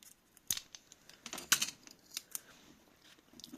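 Scissors snip a small piece of red tape, giving a few sharp, close clicks and cuts separated by short pauses, with light handling rustle in between.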